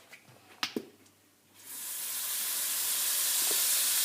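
Butter hisses and sizzles loudly in a very hot frying pan while crêpes are being made, starting as a few faint clicks and taps and then rising into a steady, bright, close frying hiss.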